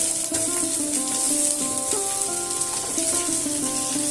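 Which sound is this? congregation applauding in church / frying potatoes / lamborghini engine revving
frying potatoes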